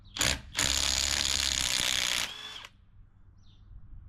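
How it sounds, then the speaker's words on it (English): A power tool spins hard on the 15/16 flywheel nut of a two-stroke Mercury outboard, a loud continuous burst of about two seconds after a short first pulse, then the shop goes quiet. "Drive that bolt in with your impact and flywheel will come off"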